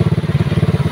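A Lipan 110 CDI motorcycle engine runs close by in a rapid, even putter, with regular pulses of exhaust thump repeating throughout.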